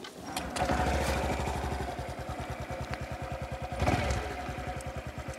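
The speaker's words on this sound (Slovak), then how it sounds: "iba zapnem motorku." A 2023 Honda ST 125 Dax motorcycle engine cranks and catches, revving briefly before settling into a fast, chugging idle close by, with a second rev partway through.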